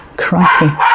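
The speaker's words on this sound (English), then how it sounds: "That's the dog." A dog barks a couple of times indoors, close and fairly loud, with a person speaking over and between the barks.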